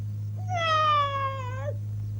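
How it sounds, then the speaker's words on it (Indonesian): A cat gives one clear, drawn-out meow with a rising then falling tone, close and fairly loud over a low steady hum. "Kucing."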